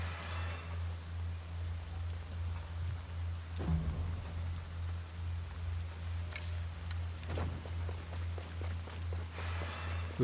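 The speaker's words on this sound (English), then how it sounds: "And now we just have rumbling rain sounds." Steady rumbling rain in a video game, a constant hiss over a low droning hum after the battle music has stopped, with a few soft thuds and no voices.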